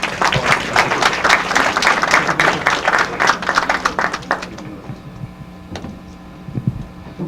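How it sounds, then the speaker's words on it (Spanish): An audience at a university book presentation gives loud, dense applause for about four seconds before it thins into a few scattered claps and room noise. "Recibámoslo con un fuerte aplauso."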